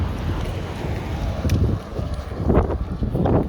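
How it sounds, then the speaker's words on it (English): Strong wind blows outdoors and buffets the microphone in gusty, uneven bursts that rise louder near the end, with no one speaking. "cause it's still pretty windy."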